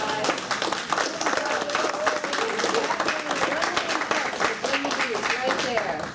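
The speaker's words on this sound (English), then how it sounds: "Can we give him a round of applause?" An audience applauds at a second-anniversary celebration in Virginia Beach, a dense, sustained burst of clapping at moderate loudness, with voices mixed in.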